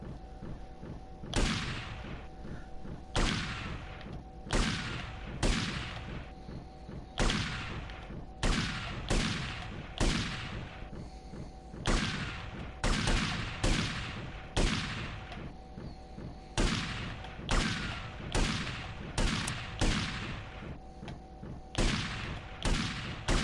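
Gunfire in the video game GTA Vice City, a long series of loud, sharp single shots in a steady rhythm roughly one per second, each with a booming decay.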